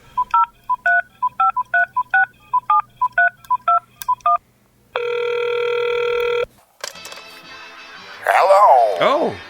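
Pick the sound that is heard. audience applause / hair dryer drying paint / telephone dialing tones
telephone dialing tones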